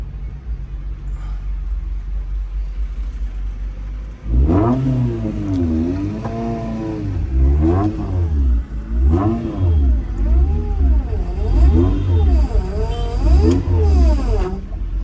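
A modified ex-army Maruti Gypsy rally engine revs hard in repeated rising and falling bursts, loud and close, with a low idle rumble between throttle blips and people talking nearby.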